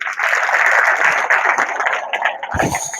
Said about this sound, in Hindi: वेरी गुड, ताली बजाओ फिर।